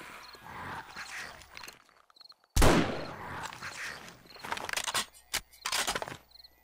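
Rifle shots in the survival game 7 Days to Die: a loud sharp blast after a brief silence, followed by several quicker, fainter cracks, with other game noise around them.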